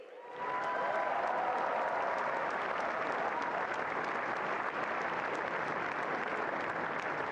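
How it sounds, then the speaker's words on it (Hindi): An audience in a large hall at a youth leaders' dialogue event in New Delhi breaks into sustained applause, a dense, steady roar of clapping that holds at full strength throughout. "ये तालियां आपके जोश और गर्व का प्रतीक है, इसे थमने मत दीजिए।"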